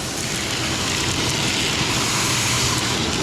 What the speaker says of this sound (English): Shop vac's the most efficient way cleaning the floor.